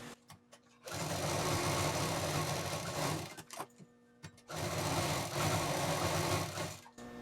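A sewing machine runs in two long bursts of rapid, even stitching, double-stitching the seam of a three-pocket shoulder bag, with a short pause between runs and soft handling noises in the gaps.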